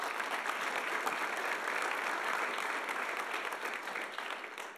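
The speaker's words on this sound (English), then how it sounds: "So let's give everybody a round of applause to open this up." Steady, even audience applause at a college athlete of the year awards ceremony, a dense wash of many hands clapping that holds level and tapers slightly at the end, with no voices over it.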